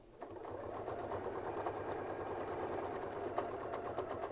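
A sewing machine stitching a quilt runs steadily at close range, a continuous even mechanical whir with faint rapid needle ticking throughout.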